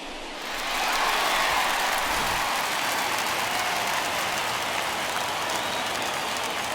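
Home crowd in a Chicago Cubs versus St. Louis Cardinals game of MLB The Show 21 roars in a steady, broad wash of cheering and applause that swells in within the first second and holds loud and unbroken.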